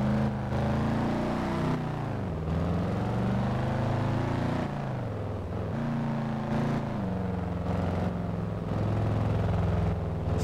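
A car engine with a heavy exhaust leak in the driving game Test Drive Unlimited 2 drones steadily, its pitch rising and falling gently as the car cruises, loud and continuous with no talk.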